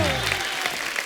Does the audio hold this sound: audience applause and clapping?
yes